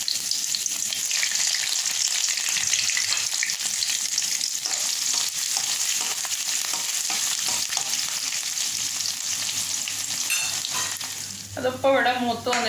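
Green chillies frying with ginger and garlic in hot oil for a corn and pomegranate pickle, a loud continuous crackling sizzle with soft stirring, and someone briefly speaking over it near the end.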